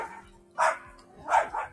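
A dog barks indoors: three short woofs, two close together near the end. The barks are moderately loud and slightly distant, with quiet room tone between them.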